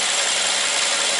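A Toyota Corolla's engine running at a steady idle, heard close by as a continuous broadband rumble and hiss with no breaks and no voices.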